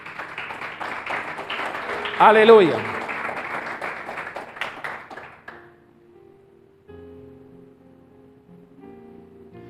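Church congregation bursts into applause during a sermon, a loud dense round of clapping for several seconds with a voice calling out over it, then fading into quieter talk and low tones.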